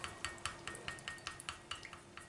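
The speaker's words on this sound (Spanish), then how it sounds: "Mezclamos con el aloe vera." A utensil stirs aloe vera gel into body cream in a small container, tapping in a quick, even rhythm of about four or five soft clicks per second, faint and alone.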